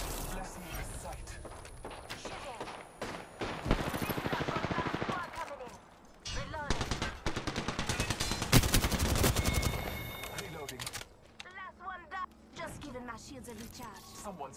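Bursts of automatic gunfire in the battle royale game Apex Legends, loud and repeated in dense volleys with brief pauses, mixed with game voice callouts and effects.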